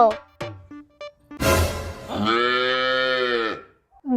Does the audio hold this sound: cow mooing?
yes